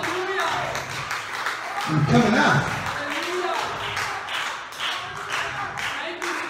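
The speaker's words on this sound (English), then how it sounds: "Clap your hands and give God a praise." Church congregation clapping their hands in praise during a sermon, a scattered burst of claps under a preacher's loud voice and faint background murmur.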